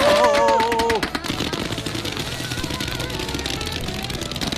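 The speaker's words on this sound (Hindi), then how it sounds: "मैंने बस रैंडम पटाखे खरीदे थे, सोचा नहीं था इतना बवाल मच जाएगा।" Fourth of July firecrackers crackle in a rapid, dense string of loud pops, a continuous rattling burst close by that follows a brief high tone at the start.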